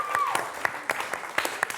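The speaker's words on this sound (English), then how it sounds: "We'll clap for that" A small audience at an evening panel game show gives light, scattered clapping, a few distinct hand claps standing out at an irregular rhythm over a soft murmur.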